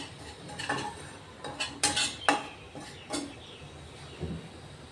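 Semolina dry-roasting in a pan without ghee, stirred with a utensil that gives a run of irregular scraping and clinking strokes against the metal, close and fairly quiet, with no talking.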